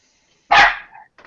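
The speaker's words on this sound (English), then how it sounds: "That was a dog. That was his little yippy thing." A small yippy dog lets out one sharp, close bark, followed by a couple of fainter little yips in an otherwise quiet room.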